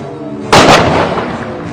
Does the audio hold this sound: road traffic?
no